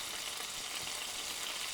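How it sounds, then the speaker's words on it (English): Potatoes frying in butter and olive oil in a skillet over medium-high heat, a steady close sizzle and crackle that continues evenly throughout with no talking. "We want to hear that sizzle"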